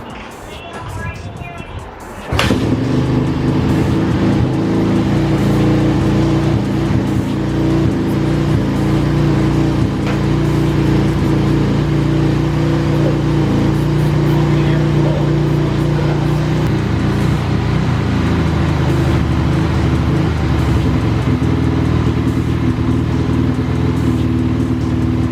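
A Kawasaki KX450F dirt bike is cold-started for the first time after a makeover, catching with a sudden bang, then settling into a loud, steady, close idle that drones on with little change.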